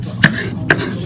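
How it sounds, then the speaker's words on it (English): Two crisp knife strikes tap against a cutting board as garlic is chopped finely, close and evenly spaced, with faint background hiss. "now she's going back and she's chopping it even into smaller pieces"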